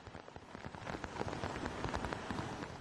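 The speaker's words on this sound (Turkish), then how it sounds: "Japonya'da Kyushu Adası'nın kuzeyinde etkili olan şiddetli yağışlar sel ve su baskınlarına yol açtı." Heavy rain pours steadily during flooding on Kyushu, Japan, a dense continuous hiss of drops drumming on surfaces, fairly close and even throughout with no voices.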